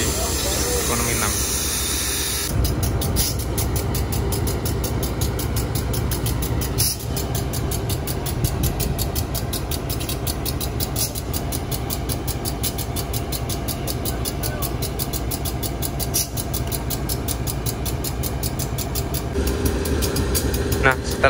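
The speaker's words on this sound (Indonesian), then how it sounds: "lokomotif dari kereta api Doha ini disambungkan kembali ke rangkaian kereta api Doha" Railway yard sounds: a heavy clank as a locomotive couples to passenger cars of the Dhoho train, then a long steady rumble of the idling locomotive with hissing air and faint voices.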